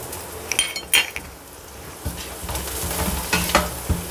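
Onions sizzle in a pan as they fry toward golden brown, a low steady hiss broken by sharp clinks and scrapes of a metal spoon stirring against the pan, close up, with no voices.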